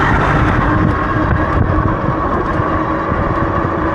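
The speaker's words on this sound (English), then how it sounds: "a lot of wind today" Strong wind buffets the microphone while riding an Aniioki A8 Pro Max dual-motor e-bike on the rear hub motor, a loud, continuous rumbling roar that stays steady throughout with no speech over it.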